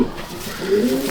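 Low, throaty pigeon coos repeat in a soft, rounded rhythm at a loft keeping racing pigeons, close by and steady with no talking.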